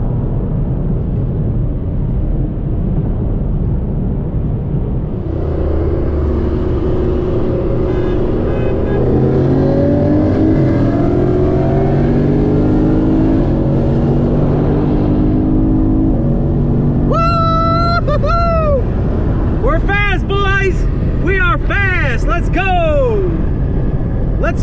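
A Camaro SS and an FBO Mustang GT accelerate hard side by side in a roll race, with a loud continuous engine roar that climbs through the gears, recorded from inside a car as people talk and shout excitedly.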